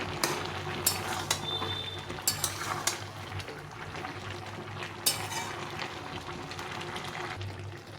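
Mixed vegetables for labra simmering in a pot, a steady low bubbling with scattered clinks of a spoon or utensil against the metal, close and fairly quiet, no talking.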